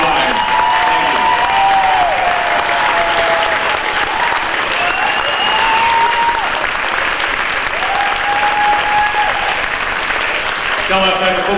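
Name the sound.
audience applause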